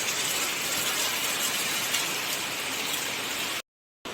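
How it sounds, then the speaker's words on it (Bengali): Heavy rain pours down in strong wind, a dense, loud and steady hiss of drops on surfaces, continuous until it cuts off abruptly near the end. "দেখো কি জোরে বৃষ্টি নামছে"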